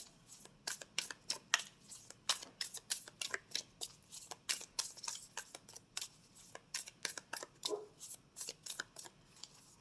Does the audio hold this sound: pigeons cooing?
no